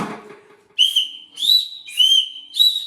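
Several whistles, including a dog whistle, are blown in four short shrill bursts, each about half a second long with brief gaps between, loud and close with no talk.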